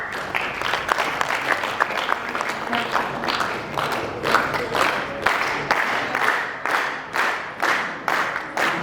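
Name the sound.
congregation applauding and ululating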